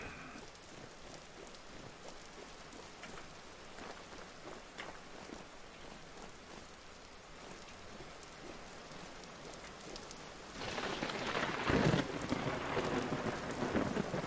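Steady in-game rain and rumbling thunder from a thunderstorm in the survival game Vintage Story, swelling near the end into a loud, close crack and roar of a lightning strike.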